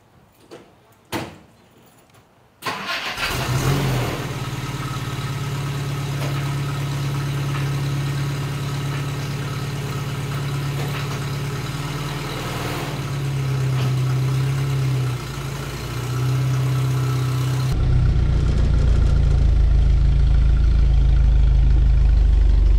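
A car door thuds shut, then a Triumph TR3 sports car engine starts and idles with a steady low rumble, revving briefly louder near the end; no talking.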